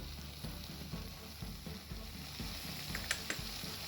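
Beef sizzles and fries in a pan as green chilies are added for a curry, a soft steady crackle with faint rhythmic stirring scrapes and a few sharp clicks near the end.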